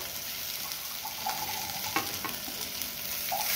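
Smashed potato being stirred into simmering ragda in a pan, with a steady soft sizzle and a few scraping stirs of the spoon, no voices.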